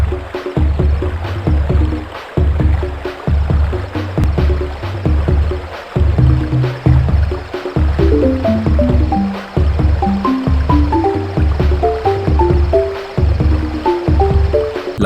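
Crash Bandicoot 2 river-level video game music, loud and steady, with a pulsing percussive beat under bubbly melodic lines that rise and ripple, heard alone without speech.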